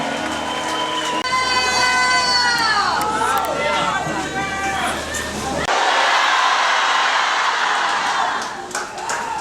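A church congregation bursts into applause and high, trilling ululation, several warbling voices rising and falling over a loud, continuous crowd roar of clapping and shouts that stays dense throughout.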